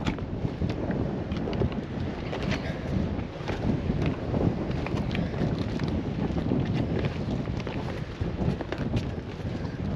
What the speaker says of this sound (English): Blowing a bit. I know, mate, I just said that, now it's a bit breezy.